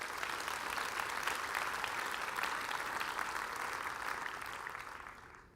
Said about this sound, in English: I think it would be fitting to give them a huge round of applause